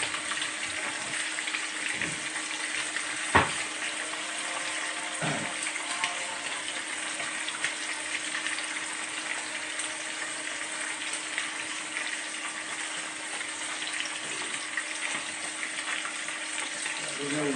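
Chili balado ingredients sizzle and crackle in plenty of oil in a non-stick wok, a steady close frying hiss with a few brief knocks.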